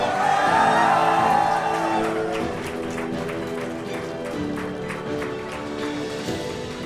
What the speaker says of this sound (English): Guys, please applaud.